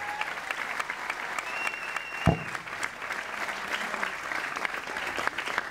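An audience applauds throughout a Saint Joseph School Class of 2019 graduation ceremony, a steady wash of many hands clapping at moderate distance, with one brief thump partway through.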